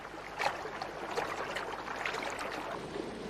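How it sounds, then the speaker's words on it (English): Red-winged starlings bathing in a river, with a steady broadband rush of flowing water and faint splashes, moderately quiet and continuous with no voices. "Red-winged starlings bathe in the river."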